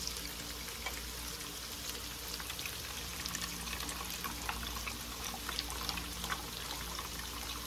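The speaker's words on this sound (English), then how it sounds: "So I'm just gonna drain the water from it." A thin, steady trickle of water draining from a can of food, pouring and dribbling, with faint scattered drips and a low background hum throughout.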